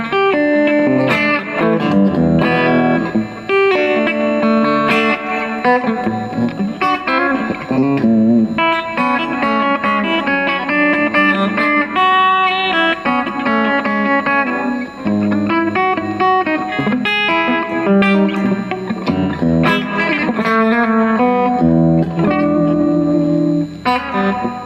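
Modded Hofner Shorty travel electric guitar played through an amplifier and Boss distortion/feedback pedal, continuous overdriven chords and riffs with effects, loud and steady throughout, no talk.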